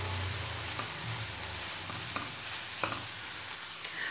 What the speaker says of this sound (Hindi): मसालों को अच्छे तरीके से मिक्स करके थोड़ी देर के लिए इनको भी फ्राई होने देते हैं